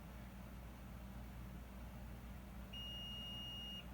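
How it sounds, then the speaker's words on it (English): A multimeter beeping on continuity while testing the fuse of a Nintendo Switch Joy-Con: one clear, sustained high tone starts partway through and holds to the end over a faint background hum, with no speech. "And we're looking for continuity. Looking for a beep."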